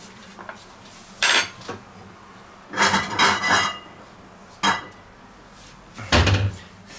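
A veal roast studded with garlic and bacon being lifted out of a clay Römertopf pot, with several loud, separate clattering knocks of utensil against pottery and lid, spaced out and close, with no voices.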